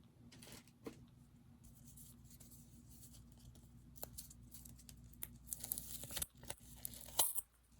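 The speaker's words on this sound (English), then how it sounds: "I'm going to go ahead and tape this down" Tape torn by hand to fix down paper for mixed media cards, heard as several short, faint ripping and crinkling bursts scattered across a quiet room, more frequent and louder toward the end.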